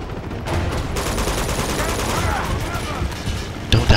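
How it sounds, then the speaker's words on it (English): Dense rapid gunfire from the video game Uncharted 2, a continuous crackling barrage of shots and bursts, with a voice talking over it. "Why that goddamn shooting?"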